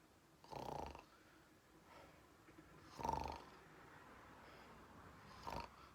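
A man imitates snoring with his voice, giving three snorts at roughly even intervals, close and moderately loud, with soft breathy noise between them.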